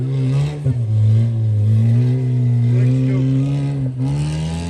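An old, rusty ute's engine revs loud and close as it races around a paddock, its throbbing drone rising and falling, with brief dips in the engine note.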